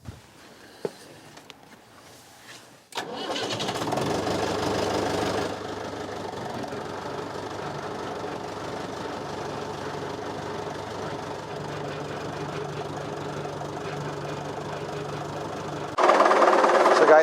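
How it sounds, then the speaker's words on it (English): A restored David Brown tractor engine runs at a steady, low rumbling idle with a faint knock, fairly close, preceded by a few clicks and rising louder near the end. "I'm sure that many of you recognize this tractor, because this is my David Brown that we restored about a year ago"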